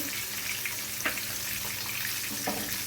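Pomfret pieces fry in a pan with oil, a dense continuous sizzle close by with a few brief louder crackles, no voices.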